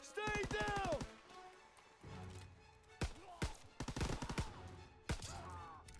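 Gunfire in Call of Duty WW2, set on D-Day, comes as rapid bursts of shots and sharp single cracks mixed with loud game effects, with someone talking between them.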